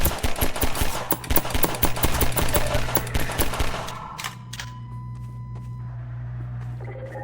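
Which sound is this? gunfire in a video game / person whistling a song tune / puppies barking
gunfire in a video game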